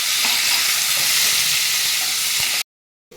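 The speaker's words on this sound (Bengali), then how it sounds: "এর মধ্যে আমি ইঁচড়গুলো ভেজে তুলে নেব। এবার ইঁচড়গুলো ছেড়ে দিচ্ছি।" Pieces of young jackfruit frying in hot oil, a loud, even, hissing sizzle close up with a few soft stirring knocks, cutting off abruptly before the end.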